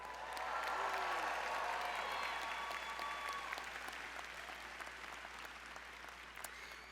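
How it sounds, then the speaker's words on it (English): Graduates and audience at a university master's commencement ceremony break into loud, sustained applause and cheering, a dense wash of clapping that swells at the start and gradually tapers over several seconds. "And now I really want you to cheer loudly."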